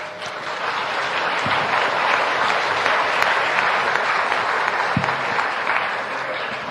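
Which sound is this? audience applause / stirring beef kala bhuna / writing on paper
audience applause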